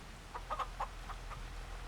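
Chickens cluck in a short run of soft, close calls over a steady background hum, in the farming video game Farming Simulator 25.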